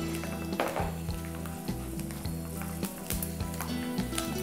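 Garlic, mustard seeds and cumin sizzle in hot oil for a tempering, heard as a continuous crackling fry with scattered pops and some stirring clatter close by.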